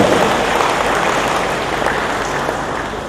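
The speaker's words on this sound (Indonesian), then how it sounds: "Kita beri tepuk tangan untuk saudara." An audience at a book discussion and anniversary gathering in a mosque hall gives a steady, dense wash of applause that stays loud and unbroken, with no talking.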